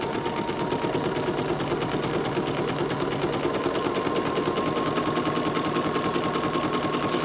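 Sewing machine stitching an appliqué onto fabric, a fast, steady, continuous mechanical rattle that runs close and loud from start to finish, with no talking.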